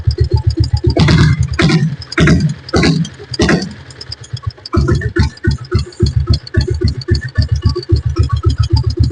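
An old diesel Royal Enfield Bullet motorcycle engine runs at low revs, its steady rapid thumping pulse close and loud, with a few brief rev swells near the start.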